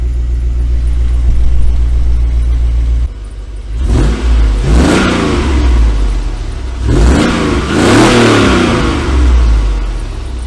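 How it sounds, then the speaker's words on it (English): A 2001 GMC Yukon engine with a loud cherry bomb exhaust idles, then revs up sharply twice, each rev rising and falling back with a throaty rumble. "Revving it up's not too bad."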